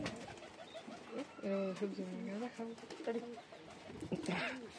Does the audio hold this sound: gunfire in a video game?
no